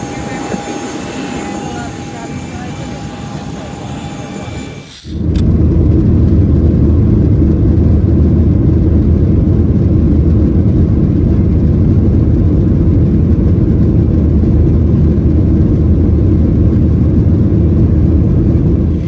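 Airplane cabin noise during the descent before landing: after a brief quieter stretch, a loud, steady jet engine roar with broad rumbling hiss fills the cabin and holds constant to the end.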